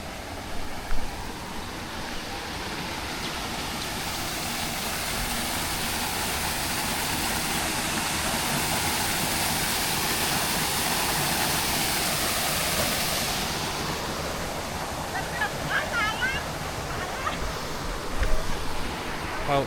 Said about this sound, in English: It's water falling, but I don't know if it's a waterfall.